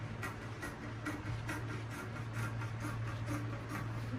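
Scissors snip through fabric for a sleeve in a steady run of about nine quiet, close cuts over a low background hum.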